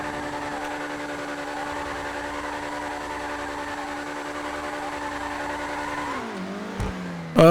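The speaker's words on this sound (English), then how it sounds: "Maybe do some burnouts around here in the parking lot." A car in GTA 5 doing burnouts around a parking lot: a steady, loud engine drone held at high revs, then falling away and rising again, with a sharp burst at the end.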